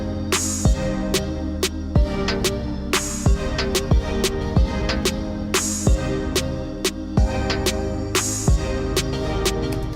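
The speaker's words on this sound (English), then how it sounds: "The next part of the drums is actually a timbal, which is a very prominent aspect of reggaeton" Reggaeton drum pattern with a timbal line bouncing over kick, clap and hi-hats, steady and loud throughout, purely instrumental with no voices.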